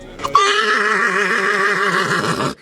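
An Ardennes draft horse at the Libramont agricultural fair lets out a single long, loud whinny, sharp at the onset and then a sustained, quavering neigh that cuts off abruptly after about two seconds.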